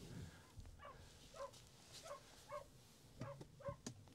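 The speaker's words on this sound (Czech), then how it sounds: "akorát před vámi nesmí stát štěkající kolie" A collie barks at the wheel of a vehicle outdoors. There are about eight short, yipping barks in an uneven rhythm at moderate distance, over a faint background hum.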